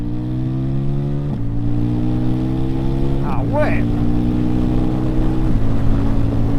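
A KTM 800 NK motorcycle engine drones loudly up close, its pitch stepping through gear changes as it accelerates, with a brief exclamation from the rider over it.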